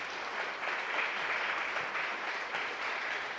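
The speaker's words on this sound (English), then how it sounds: "A round of applause for Paul there." Steady applause from an audience fills the whole stretch, a dense wash of clapping at even volume with no voices over it.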